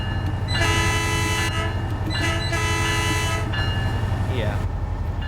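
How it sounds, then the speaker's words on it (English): Over a steady low diesel rumble, a MetroLink MP36PH locomotive in Train Sim World on the San Bernardino Line sounds two loud sustained horn blasts, with a brief squeal as it begins to depart. "Sound the horn, and we're off."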